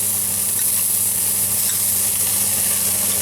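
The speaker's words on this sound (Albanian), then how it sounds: "E kemi vendosur bukën në vajin e ullirit për ta skuqur" Bread frying in olive oil in a pan, a dense continuous close sizzle and crackle with faint stirring, no voices.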